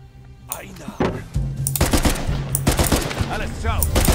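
Rapid gunfire from a firefight in the video game Uncharted 4, bursts of loud shots and clattering volleys erupting repeatedly with someone speaking over the action.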